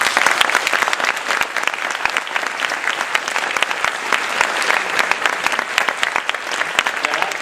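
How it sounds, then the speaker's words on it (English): A school audience at a high school spring concert gives the concert band a round of applause, loud, sustained clapping from a large crowd with sharp individual claps standing out throughout. "I'd like for you to give them a round of applause"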